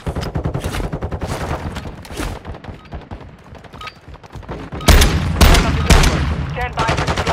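Bursts of automatic gunfire in the shooter Call of Duty Warzone rattle in rapid clusters, broken by a quieter lull before a heavy, loud volley near the end, with game sound layered underneath.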